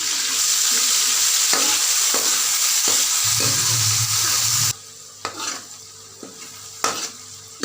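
Onion, tomato, green chili and green garlic stirred and frying in a pan: a loud steady sizzle with spoon scrapes, then quieter separate stirring clinks and scrapes after the sizzle drops away. No one speaks.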